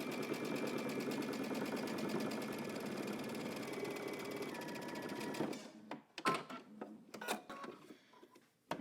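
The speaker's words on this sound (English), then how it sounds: "Okay, so I'm going to stitch down my 1/4 inch turn." A sewing machine runs steadily for about five seconds, stitching down a quarter-inch hem on a Simplicity dress, then stops, leaving a few faint clicks and rustles as the fabric is handled.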